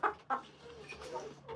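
Chickens at the coop cluck in short, close bursts, two sharp calls followed by softer murmuring clucks from the birds nearby.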